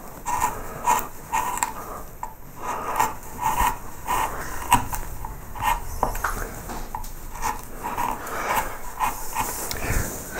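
Knife carving a wooden bow tie, with repeated scraping, rasping strokes against the wood in a fairly steady rhythm, close and moderately loud throughout, with no speech.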